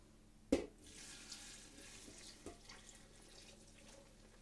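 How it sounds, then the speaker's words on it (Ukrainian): Boiling marinade of sugar, salt, vinegar and oil poured over chopped vegetables for a salad, a quiet liquid splash that opens sharply, then a soft trickle with a second small splash. "Заливаємо киплячою заливкою нарізані овочі."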